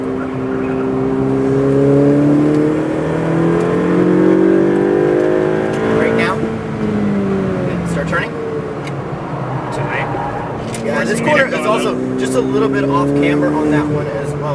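A Ferrari 488 Pista on a race track screams as its engine revs climb and drop through repeated gear shifts and braking, loud and close inside the cabin, with a driving instructor's voice over the engine.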